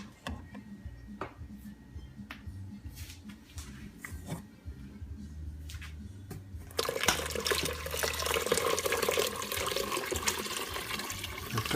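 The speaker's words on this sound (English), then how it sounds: "we're going to add about 5 cups of water" Water pours into a tomato sauce base for albondigas meatball soup in a cooking pot: after a few quiet clinks and drips, a steady, rushing pour starts and continues to the end.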